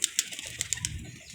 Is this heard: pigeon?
yes